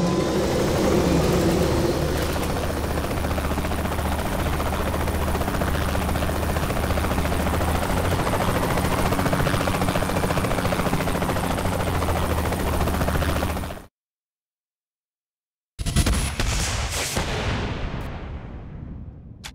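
A loud, steady helicopter rotor drone in the video game Saints Row The Third Remastered dominates, with thumping engine noise throughout, then a brief silence and a sharp whooshing sweep at the end.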